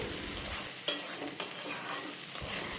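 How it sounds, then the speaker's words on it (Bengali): Egg and snake gourd frying together in a pan, with a steady sizzle and a few sharp stirring scrapes close up. "এখন এই ডিম আর চিচিঙ্গাটা একসঙ্গে ভেজে নেব"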